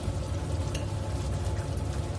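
A pot of fish stew bubbles and simmers steadily, a low dense rumble of boiling liquid with faint crackles on top, no voices.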